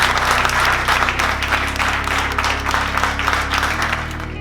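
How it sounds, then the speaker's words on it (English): An office crowd applauds a coworker at a promo-season gathering, steady full clapping running throughout over low sustained background tones. "So first off, I want to clap it up for Joe"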